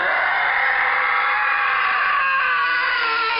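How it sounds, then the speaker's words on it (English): A male scream sound effect, horrified and pained, rings out as one long sustained, strained cry that stays loud throughout and thins slightly near the end, alone with no talking. "another one called Male Strains Like in Pain and screams a very big scream like horrified and pained"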